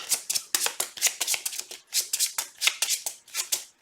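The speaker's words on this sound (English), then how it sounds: "Shuffle it back in the deck." A deck of game cards being shuffled by hand, with quick riffling bursts of papery flicks repeating in a steady rhythm, close and fairly quiet.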